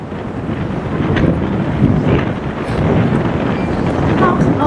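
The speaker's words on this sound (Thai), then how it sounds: "ลมแรงมากๆเลย" Loud, steady wind roars and buffets the microphone without a break, with a broad rushing noise that drowns out everything else, at a black-sand beach in Kamakura, Japan.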